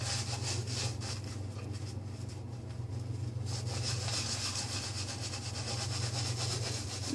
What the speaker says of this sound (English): Lathers up really well.